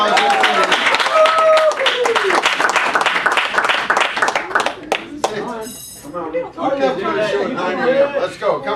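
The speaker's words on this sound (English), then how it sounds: "Give her a round of applause" An audience at a comedy magic show claps for a volunteer. The dense, lively applause fills the first few seconds, then thins out as chatter, chuckles and a voice take over near the microphone.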